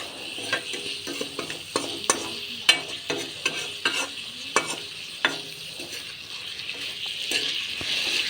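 Pumpkin and chicken frying in masala, stirred in a pan with a steady sizzle and a quick series of close scraping knocks from a spoon, no talk.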